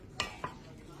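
A spoon scrapes twice against a pot while clam chowder ingredients are stirred, two quick close clinks over a faint low background hum.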